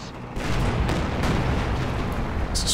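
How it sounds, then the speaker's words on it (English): A big bundle grenade detonates in the World War II strategy game Company of Heroes 2, a loud sudden blast that rumbles and crackles for a couple of seconds with no talk. "Big bundle grenade."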